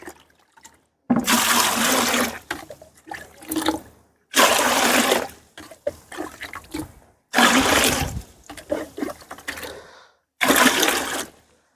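Water is poured in several loud splashing bursts with pauses between, followed by sloshing and stirring sounds, close by, as water is mixed into compost fertilizer made from fruit peels.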